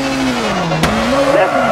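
Rally car in the video game WRC 4 taking a handbrake hairpin, engine droning with shifting pitch, a sharp knock midway, and a co-driver voice calling pace notes over it.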